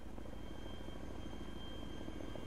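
Steady rotor chop of a helicopter in the video game DayZ Epoch, a continuous pulsing thrum with a faint whine above it, fairly quiet and unbroken throughout.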